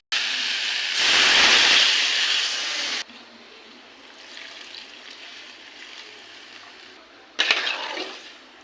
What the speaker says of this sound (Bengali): কষানো হয়ে গেছে, এবার দিয়ে দেবো জল।